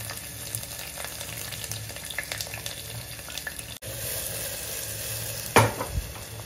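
Onions frying in a pan until golden, a steady close sizzle with light stirring taps, a brief dropout midway, then a louder burst of hissing near the end.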